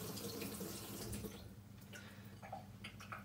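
Tap water runs steadily as the milk frother tube of a Canofea bean-to-cup coffee machine is rinsed under the faucet, with light splashes and drips close by.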